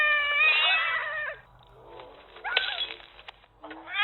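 A house cat meows loudly and drawn-out at close range, then after a short pause gives a second, briefer meow, with a low steady hum underneath.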